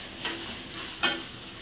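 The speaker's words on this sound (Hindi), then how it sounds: "तो अब इसको हम इसमें मिला देंगे और इसको भी अच्छे से फ्राई कर लेंगे।" Chopped almonds, cashews and coconut fry in a pan with a soft steady sizzle, broken by two brief scraping stirs.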